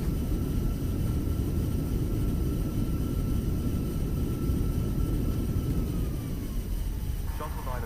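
A British Airways Airbus A320 in a flight simulator rolls out after landing with reverse thrust: a loud, steady broadband engine roar fills the clip, with a faint tone sliding downward near the end.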